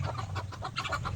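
A farm chicken clucks in a quick series of short, close calls, loud and unbroken, with a low background rumble beneath.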